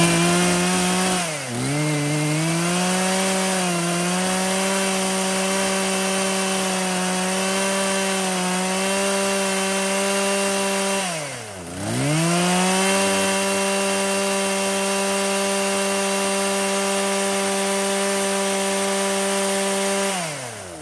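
A Husqvarna 36 chainsaw with a 36cc engine runs in a shop at a steady, loud, buzzing idle. Twice the engine pitch dips briefly and then recovers, with no talking over it.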